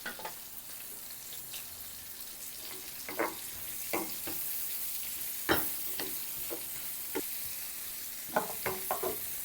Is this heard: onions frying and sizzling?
yes